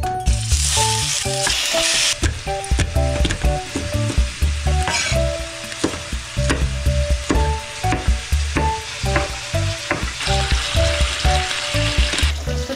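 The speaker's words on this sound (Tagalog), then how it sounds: "Saute natin ang garlic and ginger." Garlic and ginger sautéing in a pan, a steady loud sizzle with repeated stirring scrapes throughout, no voices.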